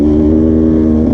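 A 2020 KTM 150 XC-W dirt bike engine revs steadily and loudly up close at Rivers Edge, a continuous buzzing two-stroke drone with a slight rise near the end.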